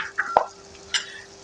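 Mutanjan sweet rice is stirred in a pot over low heat, giving a few soft scrapes and one sharp clink across a quiet hiss.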